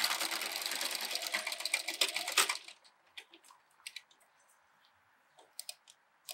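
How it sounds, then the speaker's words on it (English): Sewing machine running steadily for about two and a half seconds while stitching down the fabric pleats of a face mask, then stopping, followed by a few light clicks and handling sounds. "We're gonna jump back to the machine and sew down the pleats so they don't move once we crease it over."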